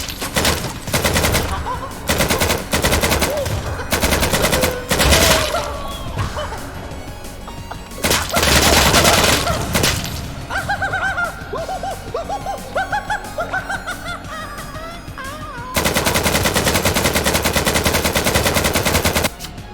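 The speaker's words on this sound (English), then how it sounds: "This makes my gun a chain gun, which makes it really fast." Rapid chain gun fire rattles in bursts through a modded Hollow Knight game, loud dense volleys starting and stopping, with a long sustained stretch near the end and game effects between bursts.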